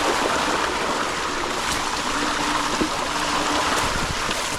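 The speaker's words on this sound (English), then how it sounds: "But we're going through deep water." Freedare Saiga electric bike riding through deep water in a pivot track on a farm, a steady rushing, splashing wash of water with wind-like noise, continuous and moderately loud with no voices.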